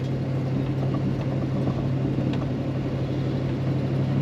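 A 1968 Pontiac Firebird convertible with a 350 engine accelerating, a steady, loud low engine rumble and drone from inside the moving car, holding constant throughout.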